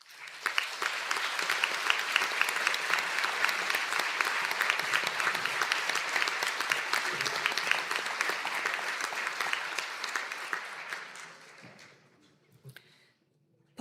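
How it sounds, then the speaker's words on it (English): Applause for graduates at a Donegal conferring ceremony, a large hall crowd clapping steadily and loudly before it fades out into a few last scattered claps. "Could I ask all the graduates of the Higher Diploma in Science and Computing to stand for a round of applause"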